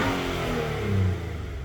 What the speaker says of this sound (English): Let's see if revving the car